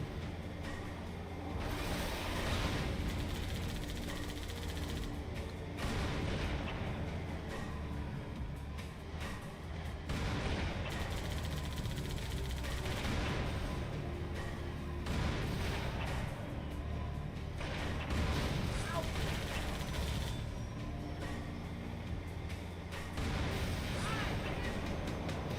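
Tank fire and combat in Halo 2 boom repeatedly across a loud, continuous wash of gunfire, engines and explosions, with voices faintly underneath.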